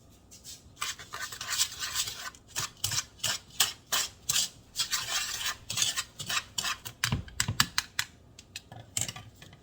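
Flour, brown sugar and cinnamon mixed in a bowl with a utensil, producing rapid rhythmic scraping and tapping strokes, close up and fairly quiet, with no voices.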